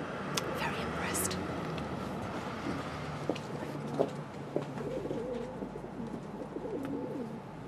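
Pigeons coo softly in a series of low, repeated calls, fairly quiet against a busy background with low voices.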